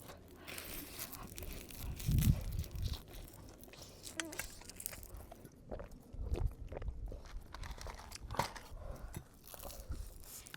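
Crispy grilled food is crunched and chewed at a campsite, with a few loud bites followed by softer mastication and rustling, close to the mic.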